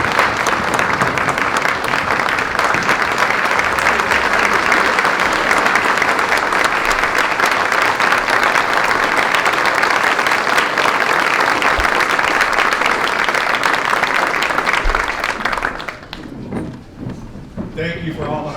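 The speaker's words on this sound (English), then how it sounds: "I think we should all give them a round of applause" Loud, sustained applause from a breakfast audience honoring the crew of the USS Vermont at a St. Patrick's Day chamber of commerce event, steady dense clapping for about fifteen seconds before it thins out and fades.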